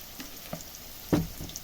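Browned potato pieces frying in a pan with a soft, continuous sizzle, broken by a few light clicks and one louder scrape near the middle, heard close up and without talk.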